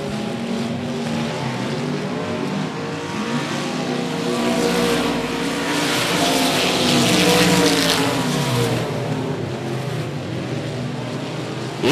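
Race cars circle a speedway in a continuous engine roar that swells and fades as the pack passes. The cars sit at a moderate distance with no talk over them.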